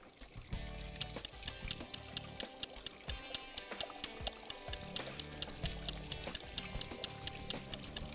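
Running water from an eye wash station in a science lab, a soft continuous pour and splash with faint clattering, quiet and steady throughout.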